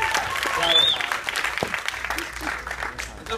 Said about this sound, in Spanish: Y me gustaría un aplauso, pero para ustedes, por favor